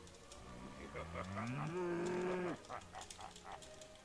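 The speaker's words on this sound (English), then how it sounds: "Full of cows." A cow in World of Warcraft gives one long, rising moo, moderately loud over steady game background noise and faint clicks.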